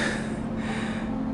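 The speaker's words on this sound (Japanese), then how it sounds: "もう息切れしてます。" Heavy, rapid gasping breaths from someone out of breath after climbing steep wooden stairs, close and loud over a steady hum.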